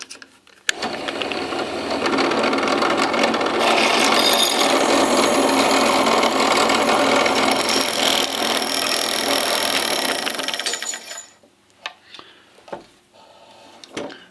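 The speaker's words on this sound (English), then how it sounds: "Here we are ready to drill just one hole." A power drill whirs loudly and steadily into wood for several seconds, then stops, leaving a few quiet clicks and handling noises.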